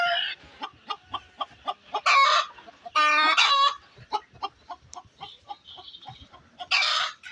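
Fayoumi chickens and chicks on a large poultry farm give a steady run of short clucks and cheeps, with a few louder, longer squawking calls rising above the flock.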